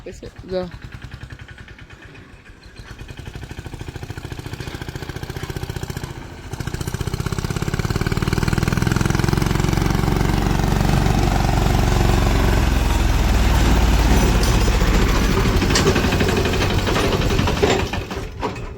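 A steady, rumbling tractor engine runs close by, growing louder and more constant after a brief dip, with a voice talking over it early on.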